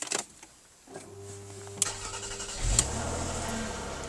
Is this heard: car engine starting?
yes